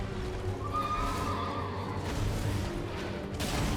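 A horse in the Elden Ring video game gives a loud, drawn-out neigh during an enemy's mounted bash attack, over steady game ambience with hoof clatter and a rush of noise at the end.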